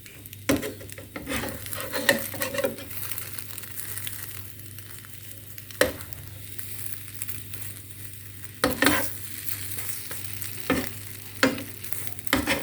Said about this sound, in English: After 3 minutes, then you flip.